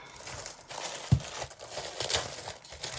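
Paper and plastic packaging of a mail-order parcel being unwrapped up close, with soft crinkling and rustling, a sharp tearing snap and scattered handling noises throughout.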